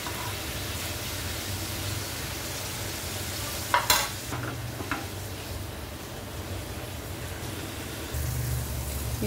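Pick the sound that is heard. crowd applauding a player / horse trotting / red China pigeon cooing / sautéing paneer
sautéing paneer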